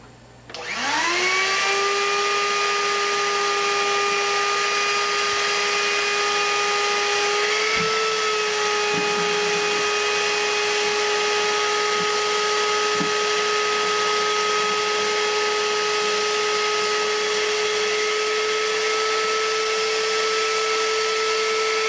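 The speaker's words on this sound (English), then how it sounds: "We're going to vacuum that up" A shop vacuum with a cyclone separator starts up and runs with a loud, steady whine, with a few scattered clatters and knocks as lathe chips are sucked in.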